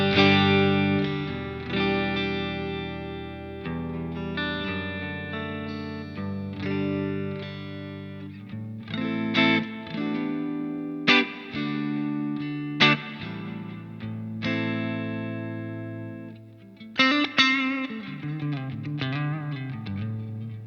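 Electric guitar played with a clean, small tone through a MezzaBarba MZero Overdrive pedal at low drive, with reverb added; chords and single notes ring out alone at moderate volume with soft decays.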